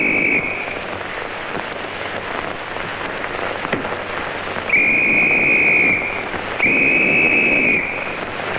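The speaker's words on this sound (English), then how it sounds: "was you blowing a whistle?" Two long, steady shrill whistle blasts, each lasting about a second, ring out over a rainy, croaking night background in a 1932 film.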